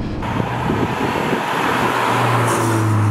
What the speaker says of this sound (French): dès que je mets le pied sur le frein, vous les entendrez aussi très bien, on les entend un peu gronder là